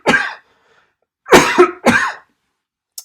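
Three loud, close coughs from a sick man, one sharp hack followed after a pause by two more in quick succession, alone with no talking.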